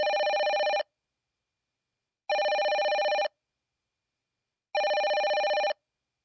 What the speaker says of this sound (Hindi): अपने पति को फोन करो और उन्हें यहाँ पर बुला लो